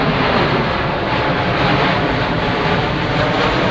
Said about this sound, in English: we're under the flight path for East Midlands Airport.